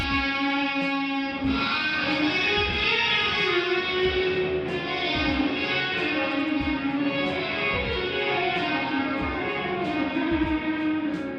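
A sustained electric guitar tone through the Neural DSP Archetype: Tom Morello amp plugin washes out in heavy reverb, notes blurring into a long, echoing tail that stays loud throughout.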